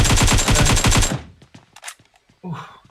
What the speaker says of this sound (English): I think we're going to have an AK against an M4 here.